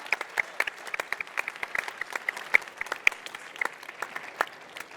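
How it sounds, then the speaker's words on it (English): An audience at a startup challenge finale applauds the three finalists, with steady, moderately distant clapping from a medium crowd that keeps going evenly throughout. "Can we please give the three of them a massive round of applause?"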